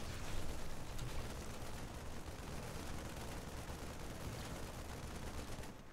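Sustained dense gunfire in a first-person Starcraft 2 mod, a rapid, continuous rattle of shots that fills the whole stretch at a steady, fairly faint level with no pauses.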